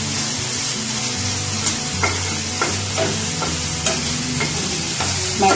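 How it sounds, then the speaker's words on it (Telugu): Chopped onion fries in a pan for palak paneer, a steady close sizzle broken by regular scraping stirs. "కొంచెం ఆనియన్ పచ్చివాసన పోయే వరకు మనం ఫ్రై చేసుకోవాలి."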